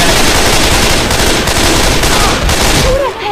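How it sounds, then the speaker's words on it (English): Loud, continuous automatic gunfire in the zombie video game Left 4 Dead 2, a dense rapid burst that fills the whole moment with no pauses. "Who the hell do you think you're shooting?"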